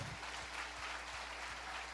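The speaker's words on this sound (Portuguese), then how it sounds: "Uma salva de palmas para eles." Applause for charity group members and volunteers during a Pentecost Sunday Mass, steady and faint across the whole clip, heard from a distance in a reverberant church with a low hum underneath.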